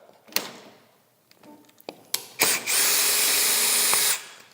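A power drill runs hard and steady for nearly two seconds, driving a rail bolt into a post, after a few scattered clicks and clunks of handling the tool and hardware.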